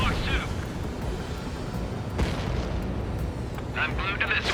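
A missile launching in the jet combat game Ace Combat 7, a heavy roaring boom that rumbles on under continuous game noise, with a sharp burst midway and radio chatter from the pilots.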